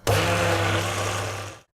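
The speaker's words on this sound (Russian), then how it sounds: "Я добавила 4 яйца и включаю блендер." A kitchen blender whirs loudly and steadily for under two seconds, mixing cottage cheese with sugar, vanilla sugar, baking powder and four eggs into a smooth cream, then cuts off abruptly.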